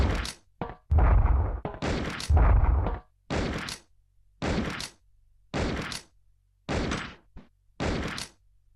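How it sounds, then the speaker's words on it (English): Magnum revolver shots in the video game Resident Evil Survivor, fired against the Mr. X Tyrant: a series of separate, loud, sharp blasts at a slow, irregular pace, each with a short decay before near silence. "it took 12 shots to defeat the Mr. X Tyrant"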